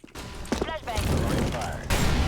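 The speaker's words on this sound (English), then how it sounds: "Flashbang!" Flashbang grenade going off during a fast online shooter match, a loud bright burst amid chaotic gunfire and thumps while players shout over it.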